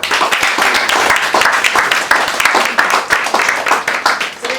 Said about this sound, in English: Then round of applause for you.